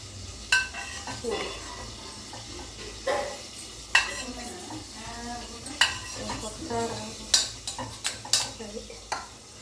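Onions frying in ghee for goat mutton biryani, sizzling steadily under repeated stirring, with close scrapes and clinks of a spoon against the pan at an uneven rhythm.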